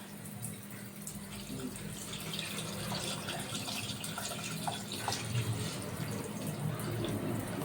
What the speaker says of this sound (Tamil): ஏன்ப்பா தண்ணியை திறந்து விட்டு வச்சுக்கிறேன்?